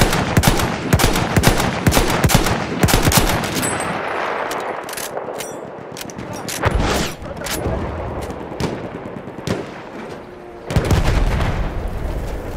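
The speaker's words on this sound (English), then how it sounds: "Ein Maschinengewehr!" Machine guns in Battlefield 1 chatter in loud, dense bursts against distant booms and explosions, with battlefield chaos filling the whole stretch.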